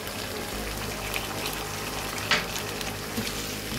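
Yogurt and chili sizzle and fry in a karahi for Afghani chicken karahi, a steady close crackle with a brief stir or scrape partway through and no talking.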